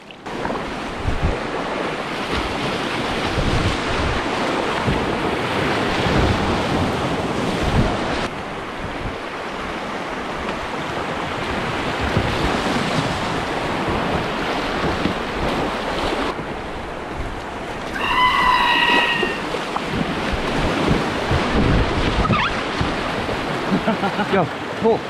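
Steady broadband rush of river water on the Tellico and Upper Green, loud and continuous throughout under wind buffeting, with a brief whistling tone near the end.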